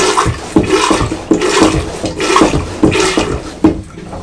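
Marine toilet being hand-pumped aboard a Bavaria 46 Cruiser yacht: a steady run of about eight rhythmic pumping strokes, each a gushing, sloshing water surge, close and fairly loud with no talking.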